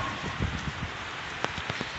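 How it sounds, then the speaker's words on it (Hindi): Heavy rain pours steadily during a storm, a dense wash of drops drumming on surfaces with a few sharper splashes and thumps; loud and close, no talking. "ये देखो कितना खतरनाक बारिश पड़ रही है, तूफान चल रहा है"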